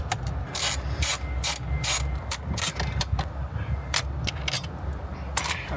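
A ratchet clicks in quick, uneven bursts while undoing the bolts holding a Toyota Kluger head unit, close and crisp, with brief pauses between runs of clicks and no talking.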